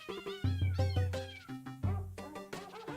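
Repeated, whiny meows from a cat in the video game Hero of Law, close and clear with no talking, several short calls in quick succession and a longer drawn-out one.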